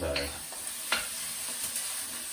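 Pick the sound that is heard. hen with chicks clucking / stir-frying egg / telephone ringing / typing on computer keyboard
stir-frying egg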